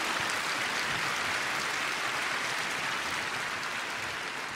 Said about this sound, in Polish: Karolina, wielkie brawa dla rodziców, którzy są z nami w Krakowie.